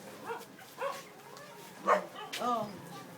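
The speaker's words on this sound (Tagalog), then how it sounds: "May aso dyan, Elijah." Dog barking and whimpering in short separate yelps and whines, several spaced bursts at moderate distance in a quiet setting, with people talking nearby.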